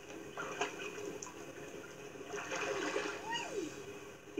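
A child splashing in lake water at Clear Lake: scattered splashes and trickling water, fairly quiet and close, with voices talking in between.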